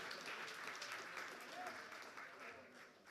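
Audience applause at a Christian revival tour event in Kokkola, Finland, steady sustained clapping from a large crowd in a hall, heard at a distance and fading slightly toward the end.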